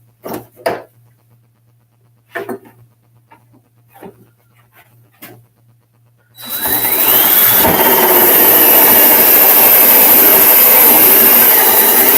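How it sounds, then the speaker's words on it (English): A few scattered clicks and knocks, then a loud, steady high-pitched whine of a power drill starts and runs continuously to the end, drilling holes in a MAME arcade cabinet. "We'll drill the other holes first."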